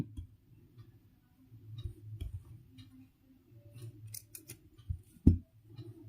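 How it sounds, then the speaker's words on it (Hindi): Scissors snip through wool yarn during crochet work on a small woollen dress, giving one sharp, close cut near the end over a quiet, low background hum. "हम इसे काट देंगे"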